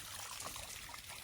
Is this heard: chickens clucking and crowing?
no